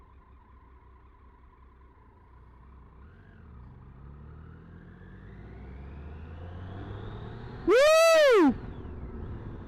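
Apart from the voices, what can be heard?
Triumph Tiger 800 ABS motorcycle engine during test ride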